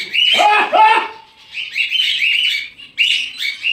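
Several pigeons call in bright, repeated chirps and squawks, close by, with short pauses between bursts.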